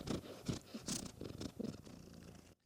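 A deaf cat purrs loudly and close up, a rhythmic rumbling pulse that repeats steadily for a few seconds before cutting off. No one talks over it.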